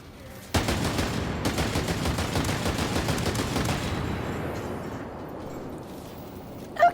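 A video game turret fires a sustained rapid burst of evenly spaced shots for about three and a half seconds, loud and close, then trails off into a fading rumble.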